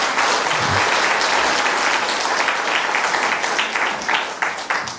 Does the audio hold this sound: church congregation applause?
yes